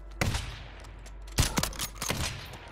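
Sniper rifle gunfire in a multiplayer shooter video game, with a few sharp, loud shots cracking out at irregular intervals over low background rumble.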